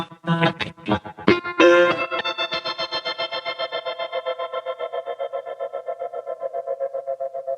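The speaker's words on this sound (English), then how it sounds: "I have my depth of the tremolator effect turned all the way up. I have it set to 16th notes." An electric guitar through a tremolator effect pedal at full depth set to 16th notes: a few strummed chords, then one ringing chord chopped into fast, even pulses that keep a steady rhythm as the note slowly fades.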